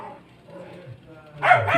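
A dog barks and yips indoors, a few short bursts, loudest near the end, mixed with a person talking nearby.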